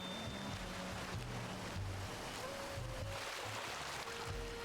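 Ocean waves wash steadily in Hello Kitty Island Adventure, a continuous soft surf rush with light melodic game music over it.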